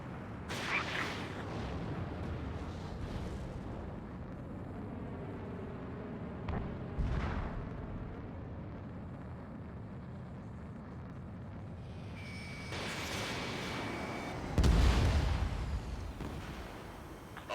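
Missiles firing and exploding in the Ace Combat 7 flight combat game, with several deep booming blasts and bursts through a continuous jet roar, the loudest near the end.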